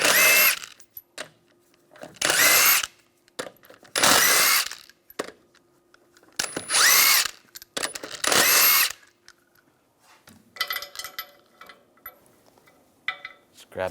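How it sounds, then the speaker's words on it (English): Short, loud whirring bursts from a power tool spinning a 21mm socket as the wheel comes off a 2004-2009 Toyota Prius. Five or six separate runs are split by brief quiet gaps, then fainter rattling follows. "Take the wheel off using a 21mm socket."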